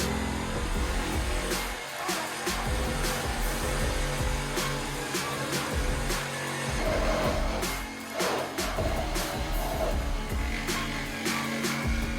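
Electric fan running in a garage during fiberglass roof cutting on a C10 truck, a steady broadband whir filling the space with faint clanks and handling noises around it, no talk.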